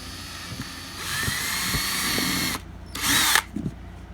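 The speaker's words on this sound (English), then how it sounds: "the small drill bit works great" A power drill with a small bit bores a starter hole in a plastic 6-quart shoebox tub, whining steadily for about a second and a half, then a brief pause and a shorter second burst, close and loud.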